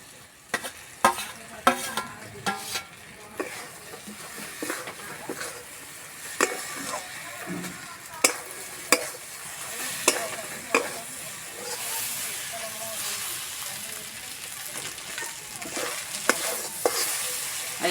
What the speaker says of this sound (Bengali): আর একটু সময় নিয়ে আস্তে আস্তে ভাজতে হবে।